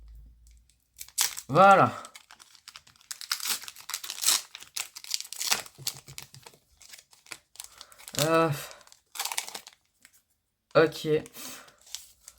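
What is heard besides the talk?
tearing open Pokémon Go booster card packs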